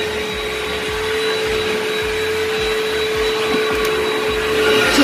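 Vacuum cleaner fitted with a carpet attachment running over high-traffic carpet before steam cleaning, a steady loud motor whine with a constant tone, continuous and close throughout with no pauses.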